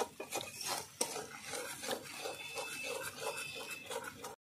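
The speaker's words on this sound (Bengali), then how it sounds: "আস্তে আস্তে এইভাবে কষিয়ে নেব" A spice paste is stirred and sautéed in oil in a pan for a Bengali prawn malaikari: quiet, rhythmic scraping and stirring strokes against the pan, steady throughout.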